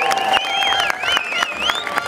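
A street protest crowd against pension reform in Toulon claps and cheers loudly, with sharp scattered claps rising over wavering shouts and whistles close by.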